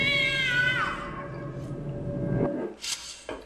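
A cat meows in the horror video game The Grudge, giving a drawn-out, wavering cry near the start over a low hum, followed by a few fainter sounds.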